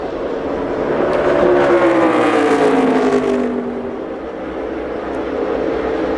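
NASCAR stock cars race past on the track, engines rising to a loud, close roar with a sweeping pitch shift, then fading as they pull away.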